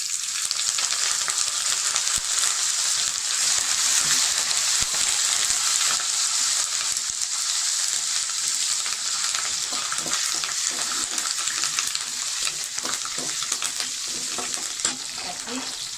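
Curry leaves frying in hot oil in a pan for Tamil mango fish curry, a loud continuous sizzle with occasional stirring scrapes, close and steady throughout without speech.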